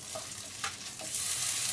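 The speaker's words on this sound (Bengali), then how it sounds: "এবার এটা চলে যাবে ভাজা। এটা কিন্তু লো হিটে করবেন" A birria taco stuffed with meat, cheese and broth fries in a pan over low heat, giving a steady close sizzle with a few light stirring scrapes, growing louder toward the end.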